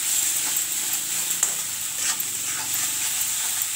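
Chicken and potato fry in a pan with a steady, bright sizzle, punctuated by a few sharp spatula clicks and scrapes as the mix is stirred, close and without any voices.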